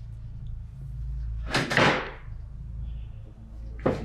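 An old wooden bathroom door in a historic mansion swings with one loud creaking sweep and bump, then a second sharp knock follows near the end, in a quiet room.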